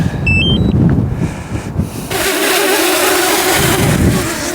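Strong wind on an exposed bog buffets the microphone in loud, rumbling gusts, with a harsher roaring rush taking over midway through; no voices.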